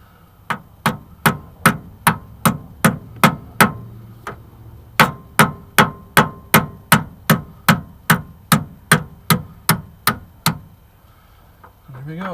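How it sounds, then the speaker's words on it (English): A hammer drives a pin into a slideout cog on a Bigfoot 30MH29SL motorhome, giving about twenty sharp metallic strikes in a steady rhythm, close and loud, with a short pause partway through. "And I've got a hammer here"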